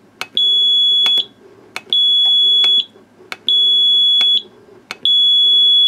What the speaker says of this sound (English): And that's just running off of this small piezoelectric buzzer.